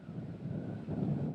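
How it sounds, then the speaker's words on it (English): Wind blowing over Lake Superior on a sunny day with choppy water, heard as a steady, close rumbling buffet against the microphone that swells slightly toward the end, with no voices. "it was a windy day out on the lake"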